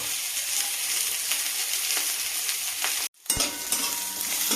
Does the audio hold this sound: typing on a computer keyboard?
no